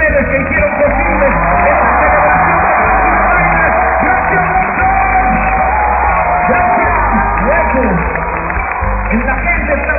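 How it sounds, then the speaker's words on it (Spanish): Concert crowd applauding and cheering at a show in San Miguel de Allende, a loud continuous roar of clapping, whoops and yells, with a voice and a steady low beat running through it. "Queremos pedir nuestro primer aplauso, el aplauso más importante para todos y cada uno de ustedes que hicieron posible."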